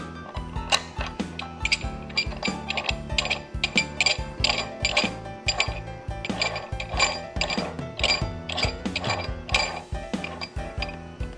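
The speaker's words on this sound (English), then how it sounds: "you take your adapter ring, put it on your DD puller" A metal adapter ring is fitted onto a Dandy Dies die puller, giving a steady run of close, sharp metallic clicks, clinks and ratcheting taps across the whole stretch.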